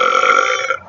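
A single long, loud, tonal burp sounds close up, holding a steady pitch before cutting off abruptly.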